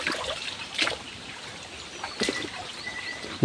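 A small stream trickles softly and steadily outdoors, with a few brief brighter splashes and faint bird calls in the background.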